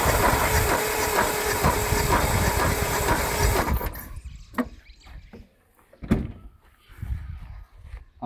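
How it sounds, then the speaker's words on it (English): During a compression test, a car engine cranks with a loud, rhythmic churning drone for about four seconds, then stops, leaving quieter scattered clicks and knocks. "Now I'll just crank it."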